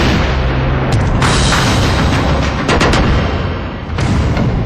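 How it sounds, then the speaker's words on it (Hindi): Grenade blast at Lal Chowk, heard as a loud, dense, close burst of booming noise that fills the whole clip with rumbling and crackle, no voices. "लाल चौक का एक हिस्सा ग्रेनेड के धमाके से थर्रा उठा"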